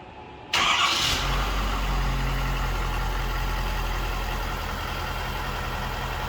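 A Ford Super Duty pickup truck's engine cranks and catches abruptly, then settles into a steady, low idle that runs on evenly.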